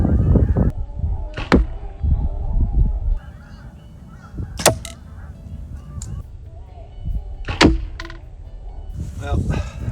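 Arrows are loosed from a bow into a target on a ranch, each shot landing as a sharp, sudden thwack between quieter stretches, with outdoor background noise and bird calls around them.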